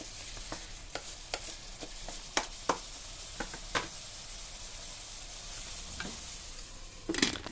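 Pork for igado sizzles quietly in a pan while a utensil stirs it, leaving a soft steady hiss broken by a series of scraping stirs and a louder clatter at the end.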